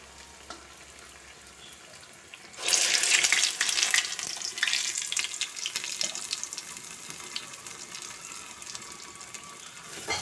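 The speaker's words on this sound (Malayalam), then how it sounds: "ഇതിലേക്ക് ഓരോ ഉണ്ട പിടിച്ചിട്ട് ഞാൻ പഴമുണ്ട ഓരോന്നായിട്ട് ഇട്ട് കൊടുക്കുകയാണ് കേട്ടോ" Banana fritter balls drop into hot coconut oil, setting off a sudden loud sizzle after a quiet start; the crackling frying stays strong, then eases slightly while continuing steadily, with no voices.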